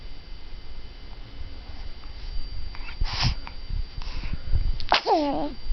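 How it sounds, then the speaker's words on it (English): A girl's sneeze bursts out once near the middle, a short sharp expulsion amid soft background rustle, followed by a brief high vocal squeal; quiet talk is faintly present. "We got a sneeze."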